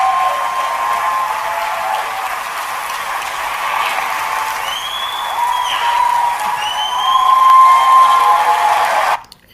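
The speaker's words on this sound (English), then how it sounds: "She seems to love the applause." A church or rally audience keeps up sustained applause and cheering, a dense steady wash of clapping that swells slightly toward the end before cutting off abruptly.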